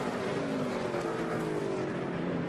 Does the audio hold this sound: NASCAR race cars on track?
yes